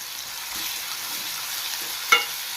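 Tomatoes added to browned onions frying in a pan for upma, a quiet continuous sizzle with one brief clink near the end, no voices.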